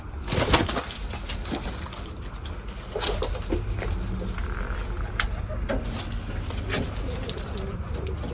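Pigeons cooing in a farmyard loft where pigeons and chickens are raised, soft repeated coos over a steady low rumble with occasional pattering and scuffling.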